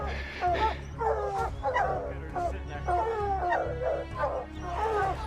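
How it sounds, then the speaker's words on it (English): Hunting dogs bark, yip and whine repeatedly from about 70 to 80 yards away on a cliff, in a steady, overlapping chorus that sounds distant yet clear, with a low rumble beneath. "Hopefully, you'll be able to hear the dogs from here."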